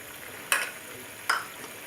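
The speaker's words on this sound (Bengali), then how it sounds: "এখন একটু বেরেস্তা দেব" Fried onions (beresta) go into a pan of shahi chicken korma with milk, giving two brief, bright sizzling splashes about a second apart over a soft, steady frying hiss, with no talking.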